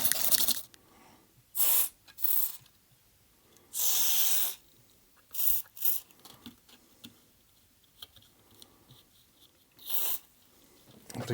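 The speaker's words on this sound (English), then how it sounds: "Putting some contact cleaner in." Several sharp hissing bursts of contact cleaner sprayed into an opened Game Boy during a screen replacement, each lasting under a second with short pauses and faint handling clicks between them, close and clear with no talking.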